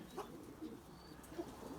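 Erzurum white breeding pigeons cooing, a few soft low coos in quick succession, faint and close with quiet background.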